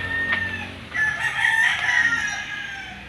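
A rooster crows loudly and close, with chickens clucking around it, all within a few seconds.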